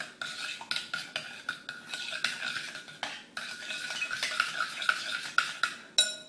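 A spoon stirs a mustard marinade for chicken skewers in a bowl, making a quick series of close clinking, scraping strokes in an irregular rhythm, fairly soft and alone.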